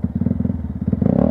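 A Yamaha YZF 125 R sport motorcycle ridden cross-country over rough ground, its engine pulsing in a steady rapid rhythm close by, with clattering and thumps from the bumpy terrain, rising slightly toward the end.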